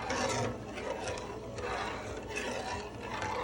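A spoon stirring bouillon into a pot of rice gives a soft, continuous scraping and rubbing close by, moderately quiet and without pause.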